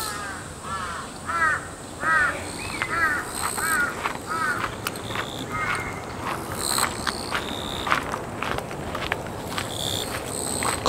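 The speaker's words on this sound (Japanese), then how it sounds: "カラスもいるんですね。" Crows cawing in countryside hills near a town, several harsh calls repeated in short bursts at moderate distance over a steady insect and outdoor background, with faint footsteps.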